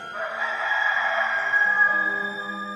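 A rooster gives one drawn-out crow, a fairly faint, high, tonal call held for nearly three seconds and sliding lower near the end, with no voices.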